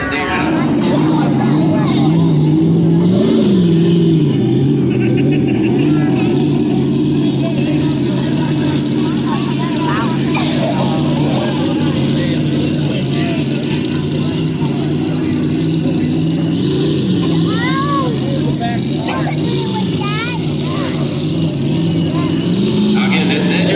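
A John Deere 7720 pulling tractor roars at a tractor pull competition, a loud sustained engine drone with rising and falling pitch and rattles, with a commentator talking over it.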